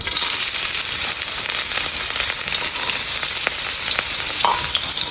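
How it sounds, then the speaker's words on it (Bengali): Carrots spit and sizzle in hot white oil, a loud, dense, continuous frying hiss with scattered crackles and no voices. "তেল গরম হয়ে গেছে দিয়ে দিচ্ছি গাজর"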